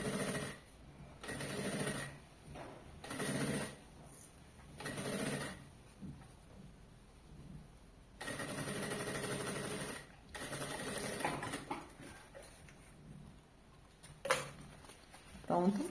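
A sewing machine stitches the side of a pencil case with a clear plastic window, running in short bursts of rapid whirring separated by pauses, close and distinct, with occasional quiet speech between runs.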